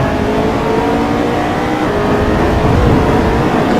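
A race car engine in the simGT racing game at Silverstone drones loudly and steadily, a dense sustained roar with no breaks or shifts, with no voices over it.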